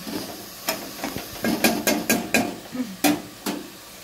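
Mutton keema is stir-fried in a pan, with a string of sharp spatula scrapes and clatters, about ten in a loose rhythm, over a soft background sizzle, close by.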